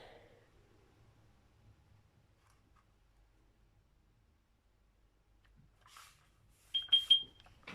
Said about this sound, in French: la batterie de mon enceinte qui vient de biper